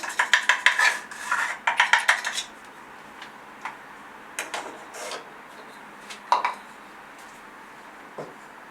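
Walnuts being mixed into a gluten-free carrot cinnamon cake batter, starting with rapid rhythmic clinks of a utensil against a bowl, then sparse scattered taps and scrapes, close and fairly quiet.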